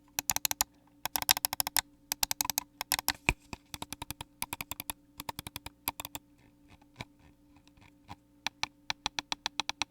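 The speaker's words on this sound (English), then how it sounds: "you have this really, really nice mouse, which is just super clicky" A very clicky computer mouse clicked repeatedly up close, sharp crisp clicks in quick bursts and irregular runs, loud and dry with no talking.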